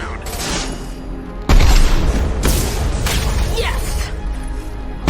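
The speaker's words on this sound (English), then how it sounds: "The crates in the transport carriers overhead are rigged to explode when dropped." Rigged crates dropped from overhead transport carriers explode in a Mass Effect 2 warehouse, giving a loud booming blast after a quieter stretch, then a second burst and crashing debris over a rumbling background.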